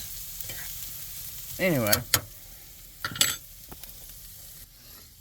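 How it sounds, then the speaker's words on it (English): Onions simmer in a pan inside a van, a low steady sizzle running underneath, while someone speaks briefly over it and a few knocks and clinks sound nearby. "I'm going to leave the onions laying in the pan, simmering for a little while longer"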